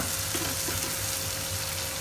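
Chopped tomatoes sizzle and fry in a pan while being stirred, a steady close hiss with soft scraping and stirring noises throughout.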